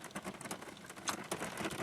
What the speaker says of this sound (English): You hear the rain? Sound like